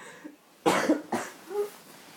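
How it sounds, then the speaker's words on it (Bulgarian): Several close, sharp coughs right beside the ear, two strong bursts followed by a softer one with a little throat sound, loud and near in a quiet setting. "не ми кашляйте на ушото"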